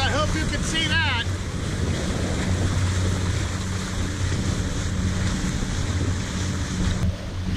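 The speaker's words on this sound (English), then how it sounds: "That's called water flow." Flowing water around a boat on Florida water, a steady rushing wash mixed with wind buffeting the microphone, with a low motor hum underneath and a brief whistle or voice near the start.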